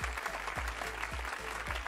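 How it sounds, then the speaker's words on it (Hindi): Loud, dense applause from an audience welcomes Padma Shri Dr. Sunil Jogi at a Red FM Kavi Collective poetry show, a steady crackling roar with soft recurring low thumps throughout. "जोरदार तालियों से वेलकम करिए पद्मश्री डॉक्टर सुनील जोगी जी का।"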